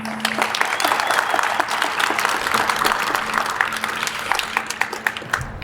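Clapping from an audience at a ribbon-cutting ceremony for the Laemmle Newhall theater, lively and fairly close, with distinct individual claps standing out in a continuous round lasting several seconds.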